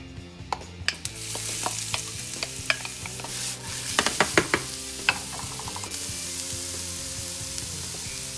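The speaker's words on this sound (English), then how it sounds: "I'm going to cook onion, put the salad oil, just a little bit." Chopped onion cooks slowly in a little salad oil in a pan, a soft steady sizzle under scattered clinks and scrapes of stirring, close and fairly quiet with no talking.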